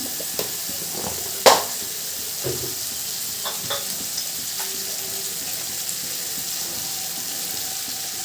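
Cumin powder sizzles faintly in a hot frying pan, a steady hiss broken by a few clinks and stirring scrapes, with no voices.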